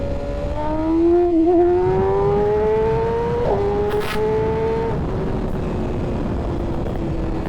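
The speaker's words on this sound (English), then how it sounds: "So I'm gonna downshift into second gear. I'm not gonna do 60, I'll do 70, just to prove the point." A 2023 BMW S1000RR sport motorcycle running on E85 with a stage 2 tune downshifts into second gear and accelerates hard, its engine note climbing in steady rising sweeps with a brief dip at the gear change, loud and close.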